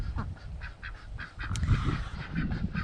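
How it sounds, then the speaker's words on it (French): Ducks quacking in a loose series of calls, fairly close, over a low rumbling background on a farm where they follow a hen. "Alors les canards squattent ici."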